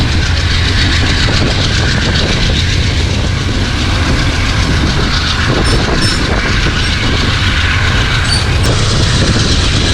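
Shah Hussain Express passenger train rolling on rails into Shekhupura on a Pakistani branch line, a loud, steady rumble of wheels and carriages with faint rhythmic clatter throughout, no voices.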